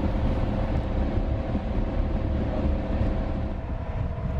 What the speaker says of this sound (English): It was quite a long train ride